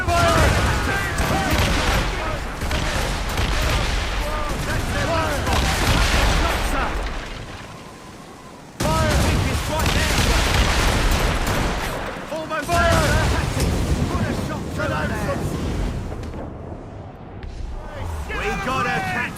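Ship cannons on a sailing vessel fire in Assassin's Creed Rogue as loud rolling volleys of booms and crackling gunfire, broken by brief lulls and layered with game shouting and battle noise.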